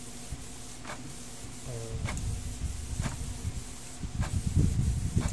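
Canon G2010 inkjet printer with a scanner fault running, steady mechanical whir with faint periodic clicks and a rougher grinding gear noise building toward the end, close and moderately loud.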